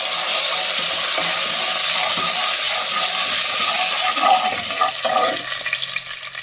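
Garlic, cumin and curry leaves hit hot tempering oil in a home kitchen, giving a loud, continuous crackling hiss that stays steady and then begins to settle and thin out near the end.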